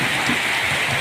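Storm rain in Gujarat, a steady broadband hiss of falling rain with a faint low rumble beneath, constant and fairly close, with no voices.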